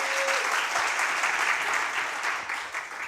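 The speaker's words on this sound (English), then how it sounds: "So you guys were just clapping your hands. Do it again real quick." An audience at a Sunday celebration service claps hands in a brief, steady burst of applause that fills the whole moment.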